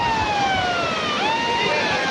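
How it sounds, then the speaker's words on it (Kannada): A loud siren wails nearby at Kasaragod Eco Beach, its pitch sliding down and then sweeping back up, over a rushing background roar. "ಸೈರನ್ ಹೊಡ್ಕೊಂತ ಇದೆ"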